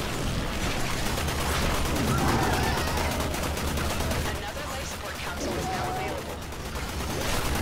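Rapid gunfire in the video game Warframe, a dense, continuous barrage of shots layered with game effects that stays loud for the whole stretch and dips only briefly midway.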